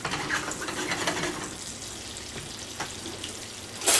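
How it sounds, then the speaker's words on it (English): Salmon cubes searing in a pan with butter, a continuous close sizzle with small pops and a louder crackle at the end, no voices. "And I let it sear. I let it cook."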